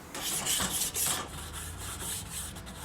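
A wire grill brush scrapes a grill grate in repeated rhythmic strokes, loud and close, with no talk over it.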